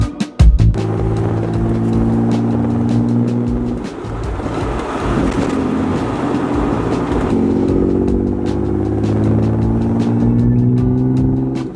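Twin turbo Nissan 300ZX on the move, its engine droning loud and close with steady harmonic tones that rise and fall through gear changes, plus a brief burst of revving near the start.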